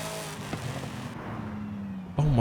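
V8 engine of a car in the racing game Forza Horizon 5, a steady mid-pitched drone that ends in a sudden loud rev spike.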